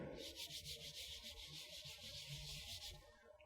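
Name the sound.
rubbing the rough matte back of a Samsung Galaxy A72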